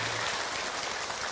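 Brief burst of audience applause at an Islamic sermon gathering, a dense wash of clapping that fills the whole moment without voices on top.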